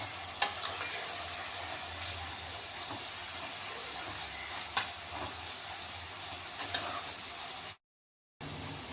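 A masala tempering for poha sizzles in a pan while a spoon stirs it, giving a steady frying hiss with a few sharp scrapes and knocks. The sound is fairly quiet, with no talk, and cuts out briefly near the end.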